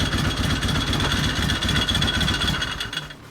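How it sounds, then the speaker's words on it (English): Harley-Davidson FLHT motorcycle engine idling with a rattling clutch plate, a loud close mechanical clatter over a rhythmic low thump that fades near the end. "That's a rattling sound from your clutch plate."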